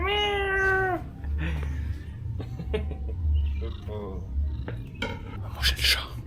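A cat in Indonesia lets out a clear, drawn-out meow at the start, then shorter mews follow amid clinking dishes and cutlery, with people talking in the background.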